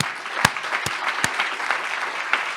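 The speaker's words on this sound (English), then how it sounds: "I think we should all give them a round of applause" An audience claps for the event organisers in a brief round of applause at moderate level, with a few sharp, distinct claps standing out above the steady patter.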